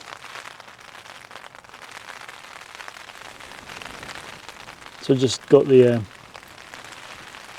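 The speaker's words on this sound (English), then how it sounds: "I don't know if you can hear that, but that's the rain on." Light rain patters steadily on a tent on a long-distance trail, a soft even hiss throughout, briefly covered by someone speaking close by.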